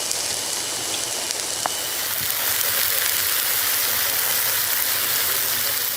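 Steady rain falls across an artisanal oil refining camp in Nigeria's Niger Delta, a dense continuous hiss of drops on surfaces with a few sharper patters, heard alone without voices.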